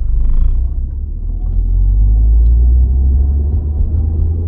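Citroën DS3 Performance engine fitted with a Proram panel filter and boost pipes, a steady loud low rumble heard from inside the car while driving, with no talking.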